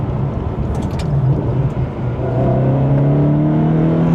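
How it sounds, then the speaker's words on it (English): A Ferrari 360 fitted with the standard rather than sport exhaust accelerates from inside the cabin, its intake whir and engine note rising steadily in pitch, fairly subdued and smooth with no voices. "this 360 has the normal exhaust, not the sport exhaust, and it is quiet"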